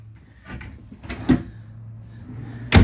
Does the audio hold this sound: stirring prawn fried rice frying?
no